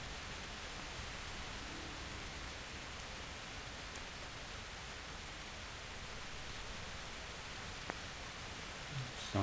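Steady rain in Kingdom Come: Deliverance falls as a dense, even hiss across the whole clip. There are faint scattered drips and a small knock near the end, and no speech.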